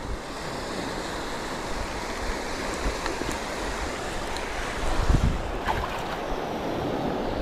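Sea waves roll and break on a shore near a fishing spot, a steady broadband wash with a louder surge near the end, with wind buffeting the microphone throughout.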